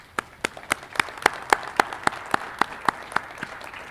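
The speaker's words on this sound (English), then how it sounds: "how about a final round of applause?" Audience at a consciousness science conference plenary claps in sparse, evenly spaced sharp claps, a few hands over a soft background of applause rather than a full ovation.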